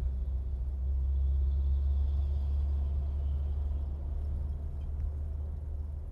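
Large trucks on the Pantura road near Kalibangka, Pangenan, heard as a deep continuous engine rumble and road roar, steady and moderately loud with no talking.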